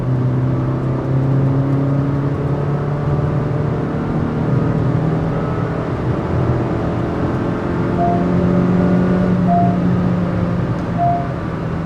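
A 2020 Honda City ZX manual with a petrol VTEC engine, heard from inside while driving: a steady, droning engine note that slowly shifts pitch, with a few short speed-alert beeps near the end.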